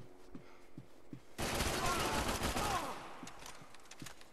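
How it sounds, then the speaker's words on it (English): Gunfire bursts from an enemy shooting through a wall in the video game Max Payne 3, a dense rattling volley of about a second and a half over faint low thumps, fairly quiet overall. "He was literally shooting the wall."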